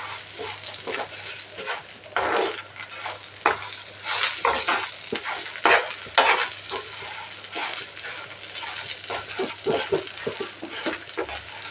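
Curry leaves are stirred and fried for chitranna in a pan, giving repeated metallic scraping and clinking over a steady sizzle, loud and close.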